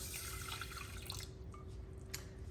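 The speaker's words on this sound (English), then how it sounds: "we're gonna go ahead and add our rice and 3/4 cups of water" Water runs into a pot of rice on the stove: a soft, quiet splash and trickle that thins out into a few faint drips.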